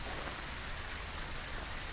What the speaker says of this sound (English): I could have missed a lot of sounds due to the heavy rain